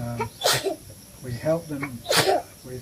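Two sharp sneezes, close and loud, about a second and a half apart, with people talking in between and afterward.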